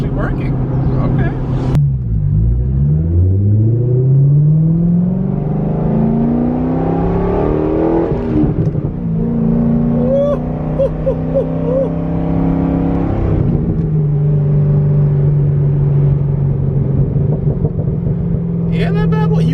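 A car engine revs hard and repeatedly, its pitch sweeping up and down through several long pulls at close range, with a person talking over it and a loud burst near the start.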